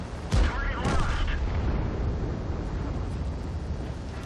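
Tank cannon firing high explosive rounds in World of Tanks, a single loud boom near the start followed by a rumbling tail and steady low battle noise, with voices under it.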